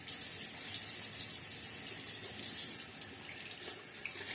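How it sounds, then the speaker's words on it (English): Tap water runs and splashes into a sink during a wet shave with a safety razor and shaving stick, a steady hiss that softens slightly toward the end, with no talking. "Get a little splash of water."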